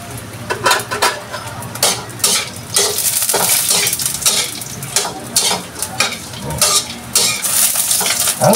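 Dried anchovies (dilis) sizzle loudly in a pan as a utensil stirs and scrapes them in repeated strokes, with crackling frying continuing underneath.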